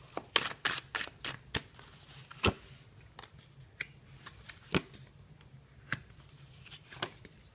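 Tarot cards being shuffled and handled, a series of sharp snapping flicks, quick and clustered at first, then sparser, close and fairly quiet.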